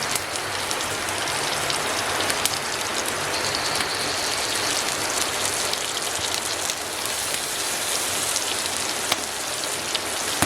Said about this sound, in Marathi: पाऊस आला आहे